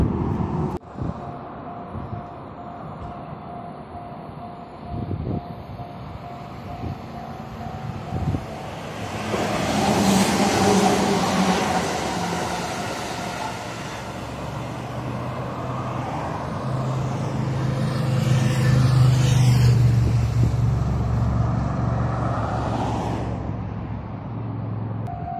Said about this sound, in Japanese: 列車が入ってきます